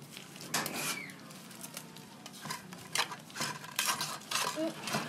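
Papaya salad being tossed and mixed by hand, with irregular clinks and scrapes of utensils against a dish, moderately close, over light background chatter.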